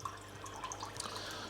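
An aquarium pump pushes water out through a hose, a quiet, constant trickle with small irregular drips and splashes close by.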